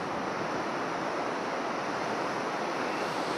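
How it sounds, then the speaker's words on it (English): Broadband roar of ocean surf breaking along the shore at J Bay, South Africa, during a kneeboard surfing event; a steady, continuous wash with some wind across the microphone and no talking. "There are some waves."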